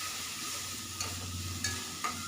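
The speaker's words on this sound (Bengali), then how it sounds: "তো খুব ভালো করে মশলার সঙ্গে চালটা আমি মিশিয়ে নিচ্ছি" Gobindobhog rice being stirred with spices and a little water in a hot pan: steady sizzling with a few sharper scraping strokes of the spoon, close and clear, no voices.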